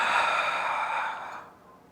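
A long, breathy exhale during a yoga pose, close and soft, fading out over about two seconds.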